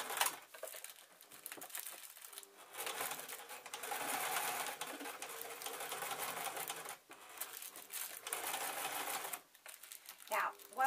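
A sewing machine stitches along the edge of a cloth juggling bean bag filled with rice, running in bursts of steady whirring with brief pauses, close and fairly loud.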